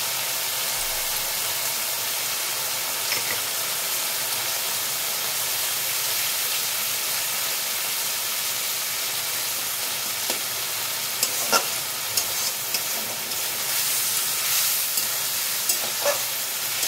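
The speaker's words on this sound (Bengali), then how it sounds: "আমি আস্তে আস্তে মাছের সঙ্গে কষতে থাকবো মশলাটা।" Garlic and onion paste masala stir-fried with prawns for shorshe chingri, a dense steady sizzle and steamy hiss throughout with a few faint utensil taps.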